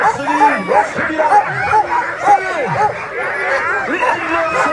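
Sled dog teams bark and yelp in a loud, dense chorus at the mass-start of a sled dog race stage in Bessans, with crowd babble mixed underneath.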